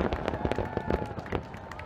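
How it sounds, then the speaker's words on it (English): Fireworks at a White House celebration with a barbecue: a rapid run of sharp pops and crackles bursting in close succession, loud and busy throughout with a faint crowd murmur behind. "Joe Biden held a barbecue and fireworks display at the White House"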